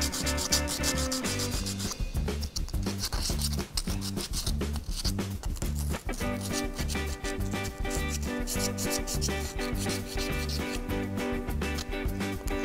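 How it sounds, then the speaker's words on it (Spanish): Steady, continuous rasping of sandpaper rubbed briskly back and forth against the edge of a brass sheet, loud and close, with no talking. "También lo lijamos por los bordes."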